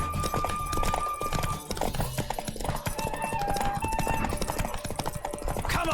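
A horse gallops at speed in The Witcher 3 video game, its hooves beating a fast, rolling clip-clop with a brief whinny, set against busy game music and ambience.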